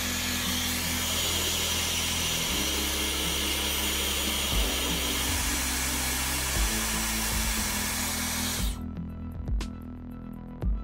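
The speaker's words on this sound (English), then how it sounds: "warm up the surface of the display with a regular hairdryer" A regular hair dryer blows steadily and loudly, warming an Apple Watch Series 6 display for case opening, then cuts off near the end, leaving faint clicks and handling noises.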